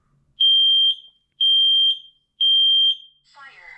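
A home smoke alarm sounds three loud, steady piercing beeps of about half a second each, evenly spaced roughly a second apart, heard alone with a brief rustle after the last beep.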